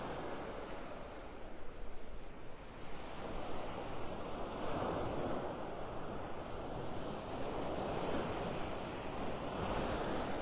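Ocean surf rolling onto the sand at Vanderbilt Beach in North Naples, Florida, a steady continuous wash of breaking waves with wind buffeting the microphone, no voices.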